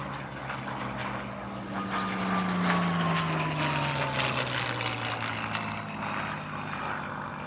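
A Spanish-built Bf109 fitted with a Rolls-Royce Merlin engine passes at an airshow, its loud propeller drone holding steady and then sliding down in pitch as it flies by, with no voices over it.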